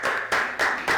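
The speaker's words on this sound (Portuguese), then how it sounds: "Palmas para vocês, palmas." Four slow, evenly spaced rounds of clapping, each a loud, close burst of several hands.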